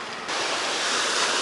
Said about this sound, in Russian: А море сегодня неспокойное.